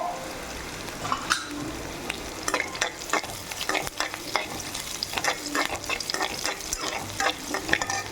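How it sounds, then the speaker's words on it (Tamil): Sliced onions sizzle steadily in a hot pan while being fried down for an araikeerai (amaranth greens) thokku. Scraping stirring strokes tap and rasp through the constant frying hiss, with no talking. "வெங்காயம் வதங்கிருச்சு."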